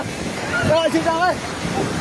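A rushing roar of a flooding river in Nepal fills the scene while a voice shouts over it, urgent and close.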